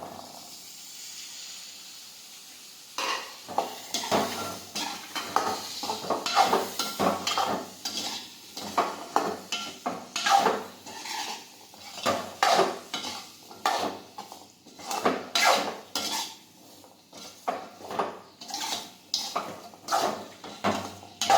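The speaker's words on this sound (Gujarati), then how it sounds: "હવે આપણે સિંગદાણા નાખી દઈશું બાફેલા" Sharp, irregular scraping and clattering of a spoon against a pan as boiled peanuts are stirred, starting after a quiet few seconds.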